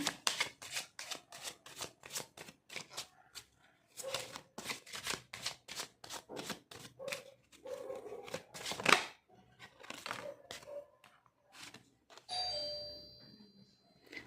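Tarot cards are shuffled close up in quick riffling bursts, rapid crisp flutters that come in uneven runs, followed by a softer slide as a card is drawn.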